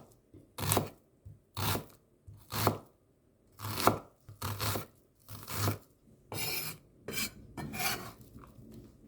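A knife chops an onion on a board, about ten sharp, evenly spaced strikes that sound close and clear, with no talking.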